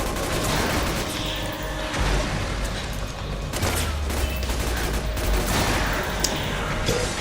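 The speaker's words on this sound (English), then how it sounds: "Stop shooting missiles at me, please." Dense, continuous barrage of missile and gunfire blasts from Metal Gear Solid 4, loud and busy throughout with layered booms and rattling impacts, no speech over it.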